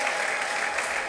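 A church congregation applauds during a worship service, a dense, steady wash of clapping from many hands that holds throughout.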